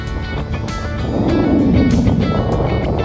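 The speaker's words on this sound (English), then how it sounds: "It's a little windy and a little stormy." Strong wind roaring steadily at the Raven Glacier overlook in Alaska, a loud broadband rush that swells and gusts without a break.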